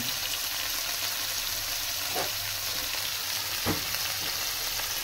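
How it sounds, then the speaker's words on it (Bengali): Bitter gourd sizzles steadily in hot oil in a pan, a loud, even crackle that runs throughout, with a couple of brief soft stirring scrapes and no talking. "উচ্ছেটাকেও খুব সুন্দর করে ভেজে নেব"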